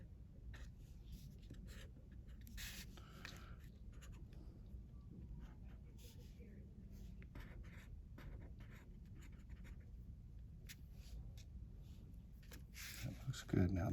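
A pen drawing Pete the cat on paper, with soft, steady scratching strokes close up running through the whole passage, and a brief louder rustle at the very end.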